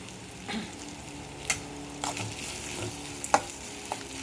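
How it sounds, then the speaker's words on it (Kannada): Curry leaves dropped into hot oil for an upma tempering give a steady, close sizzle and crackle, with a few sharp spattering pops and light stirring clatter. "ಇವಾಗ ಕರ್ಬೇವು ಹಾಕ್ತೀನಿ"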